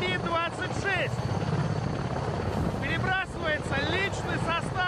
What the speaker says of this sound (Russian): генеральный штаб вооруженных сил использует вертолеты Ми-26